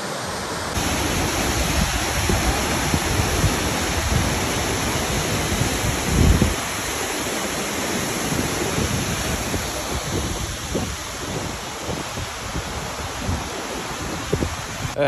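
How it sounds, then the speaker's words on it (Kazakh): The Burkhan-Bulak waterfall in Kazakhstan roars as a constant, dense rush of falling water, a loud unbroken wash heard close by with no voices. "Келесі мақсат әлемдегі ең биік сарқыраманы көру."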